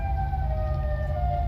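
Siren Head monster from a Batman and Robin fan film lets out a steady, sustained siren wail with layered tones, loud and continuous with no talk.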